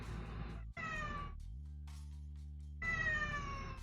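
Domestic cat meowing close by, two drawn-out insistent meows separated by a brief steady tone, loud and clear with no talking.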